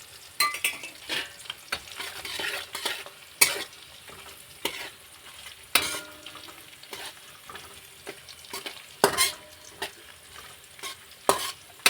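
Cashew pieces fry in a pan for matar paneer. Repeated close scraping stir strokes come in irregular bursts over a soft background sizzle, with no talking.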